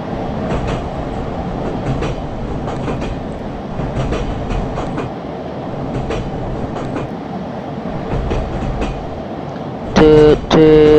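A train plowing along the line from Celle to Hannover in a train simulator game, steady rumbling rail noise with rhythmic clickety-clack of wheels, loud and close, ending in a brief tonal horn blast.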